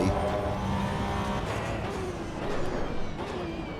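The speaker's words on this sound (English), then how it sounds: "the sound of the Porsche always sounds good" Porsche race car engine in the racing game Assetto Corsa Evo, a loud, rough engine roar that holds steady for a few seconds, then swells and fluctuates as if revving.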